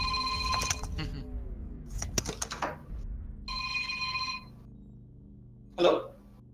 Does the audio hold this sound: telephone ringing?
yes